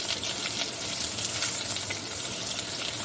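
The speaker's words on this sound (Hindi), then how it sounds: "थोड़ा सा चम्मच हिला के आलूओं को थोड़ा सा हल्का सा हम फ्राई कर लेंगे" Potato slices fry in hot oil with a steady, dense sizzle throughout, while a spoon stirs them with occasional soft scraping clicks against the pan.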